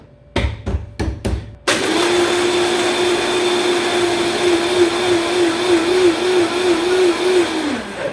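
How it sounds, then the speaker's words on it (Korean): A blender whirs through Malibu, pineapple juice and a scoop of crushed ice, starting after a few quick knocks and running as a loud, continuous motor whine with a slightly wavering pitch for about six seconds until it winds down. "자, 블렌더를 닫고"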